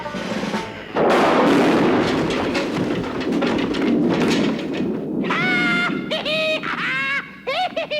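Gunfire in the Land of the Lost TV series: a sudden loud blast at about one second, then a long rumbling roar, later joined by shrill warbling calls.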